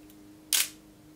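A single crisp mechanical shutter click from a Wirgin Edixa Reflex-C camera set to 1/100 second, close and sharp, in an otherwise quiet room with a faint steady hum.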